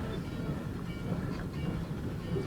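A train rumbles past close by with a steady, heavy low roar and faint rail clatter, and a voice is briefly heard over it.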